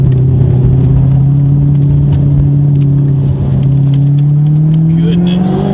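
A supercharged Audi R8 LMS race car engine roars loud and close in a continuous heavy drone, its pitch holding steady and then climbing slowly, with a rumbling low end and light ticking noises on top.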